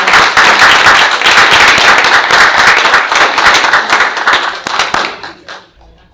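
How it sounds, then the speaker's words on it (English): A school board meeting audience breaks into a round of applause, loud, dense clapping that holds steady for several seconds and then thins out and fades away. "So let's give them a round of applause."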